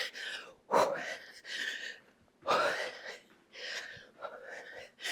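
Heavy, labored breathing after a cardio kickboxing workout, close to the microphone, with several sharp, loud gasping breaths in an uneven rhythm.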